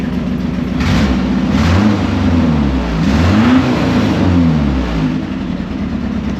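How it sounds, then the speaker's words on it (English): A loud, rough old carbureted truck engine runs steadily nearby, shaking, its low throb rising and falling with a few light revs, no voices. "It's still an old carbureted engine, so it's going to shake"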